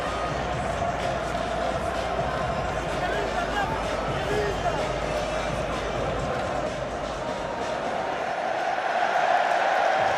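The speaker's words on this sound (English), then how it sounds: "A great cheer greets the sight of Sir Alex Ferguson on the Wembley screens" A large crowd at Wembley Stadium cheers during an FA Cup match between Manchester United and Manchester City, a continuous roar of massed voices with scattered whoops that swells slightly toward the end.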